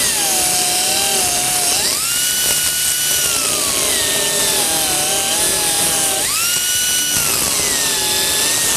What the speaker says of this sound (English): you want to take an angle grinder, something so you can just score it